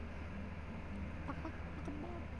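A voice imitates a chicken in Uncharted 4, a few short clucking bursts over a low, steady game background hum.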